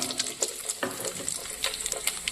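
Cumin seeds crackle and sizzle in a hot pan that still holds some water, a steady close frying hiss dotted with small pops and the scrape of stirring, with no voices.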